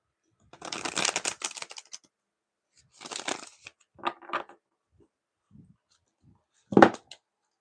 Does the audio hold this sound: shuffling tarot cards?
yes